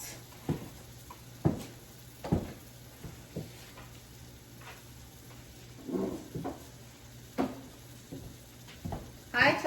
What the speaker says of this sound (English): We're going to keep stirring pretty frequently to make sure nothing sticks to the bottom